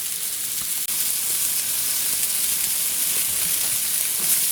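Sausages cooking in a pan keep up a steady, even sizzle and crackle at moderate loudness, broken by one brief dropout, without any talking.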